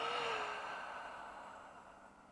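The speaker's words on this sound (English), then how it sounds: "And then I exhale out." A single long, slow exhale during a beginner yoga twist, a soft breathy whoosh close to the microphone that starts fuller and gradually fades over a couple of seconds.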